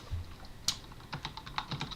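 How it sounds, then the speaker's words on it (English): Quick keystrokes on a computer keyboard while entering a terminal command, a short run of light, close clicks in an irregular rhythm with no talking. "then you want to type in"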